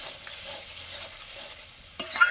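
Leafy greens stir-fried dry in a pan, a soft continuous sizzle with a louder scrape of stirring near the end, close by and without speech.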